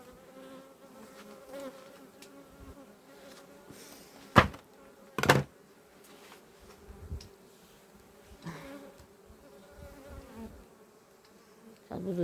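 Honeybees buzz faintly around a beehive with weak flight activity. The soft, sparse insect hum is broken by two sharp, loud knocks close by.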